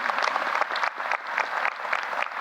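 Sustained audience applause at a university presidential investiture, an even wash of many hands clapping with slight surges, moderately distant and without speech.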